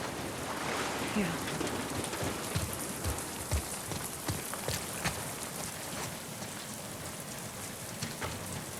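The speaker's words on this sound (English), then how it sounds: "Let's get out of the rain." Steady rain falls in The Last of Us Part II, a dense continuous patter on surfaces with scattered louder drops, a faint voice underneath.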